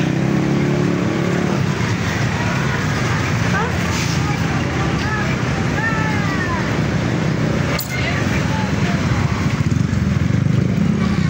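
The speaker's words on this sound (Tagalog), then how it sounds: "Sana alis ka agad tong tricycle na to." A motorized tricycle engine idling and passing nearby on a hot street, a loud continuous rattling drone over traffic noise, with people talking throughout.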